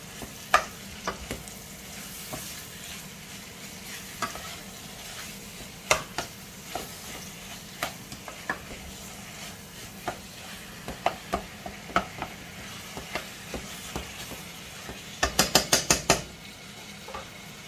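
Minced lamb for moussaka sizzles and browns in a pan while a utensil repeatedly taps and scrapes, breaking up the meat in irregular clacks that speed into a quick burst near the end, with no talking.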